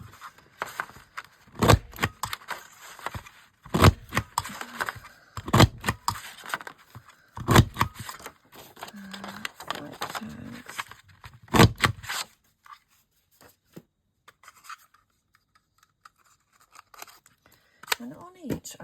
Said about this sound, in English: I'm going to use my hole punch